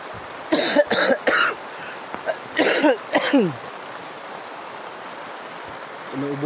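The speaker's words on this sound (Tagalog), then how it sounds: "Umuubo pa naman ako." A run of harsh coughs in quick bursts, several in a row, close and loud, then quiet background hiss.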